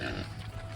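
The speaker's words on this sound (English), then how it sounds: "Our pigs are growing, as you can see, pretty good" Farm pigs grunt in low, rough bursts against steady outdoor background noise, with no one talking.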